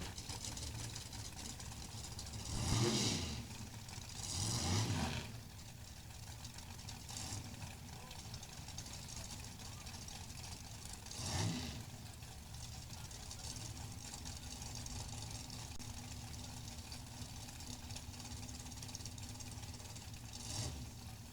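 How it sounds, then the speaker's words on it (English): Drag racing engines, including a nitrous-fed Pro-Charged 548 cubic inch big-block Chevrolet, idling at the start line; a steady, rough, lumpy rumble with a few louder revving swells, heard from a distance. "I believe that is a Pro-Charged 548 cubic inch Chevrolet on the left, the nitrous fed big block."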